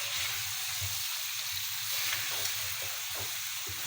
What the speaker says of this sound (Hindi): अब मसाला डाल के मैं इसको अच्छी तरह फ्राई करूँगी